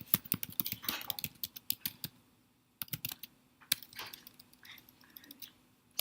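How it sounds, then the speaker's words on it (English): Rapid typing on a computer keyboard during a programming lecture, with dense bursts of sharp key clicks, a short pause, then scattered keystrokes, fairly close and unaccompanied by speech. "So I'll first gonna type myself an example."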